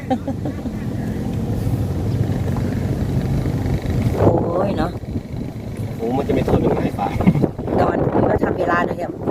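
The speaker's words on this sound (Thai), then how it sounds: "ลมมาแล้วเนี่ย" Wind buffets the microphone in a steady rough rumble at a riverside fishing spot in Wichian Buri, Thailand. It gusts stronger at moments while people talk throughout.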